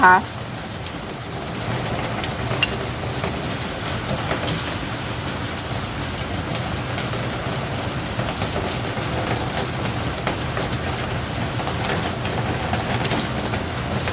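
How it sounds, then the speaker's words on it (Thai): Steady rain patters on a roof overhead, a continuous even rush with scattered louder drops. "ที่นี่ก็เป็นเสียงฝนตก"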